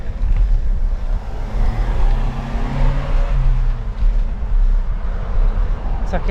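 Cars and heavier vehicles pass a cyclist climbing a hill road in the Exe Valley, a steady near engine and tyre rumble that swells as they go by, with wind noise throughout.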